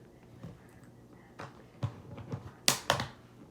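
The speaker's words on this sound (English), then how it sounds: "if you align it correctly, you'll hear a snap" A Surface Pro 7 tablet is set down and clicked onto its keyboard cover, with a few soft taps and shuffles leading to two sharp, close snapping clicks near the end.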